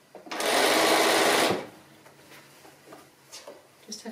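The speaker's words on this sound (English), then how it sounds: "now that I am going to stitch about 3/8 of an inch in this time" A sewing machine stitches the cuff seam of a fabric Christmas stocking, running in one steady, loud burst of about a second before stopping, with quiet handling sounds after.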